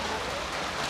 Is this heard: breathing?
no